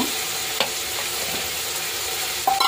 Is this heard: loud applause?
no